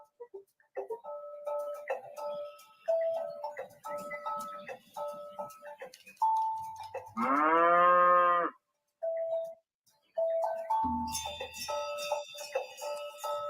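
Cattle on a farm mooing, several long, loud calls spaced through the clip with a clanging bell between them, close by, with no talk.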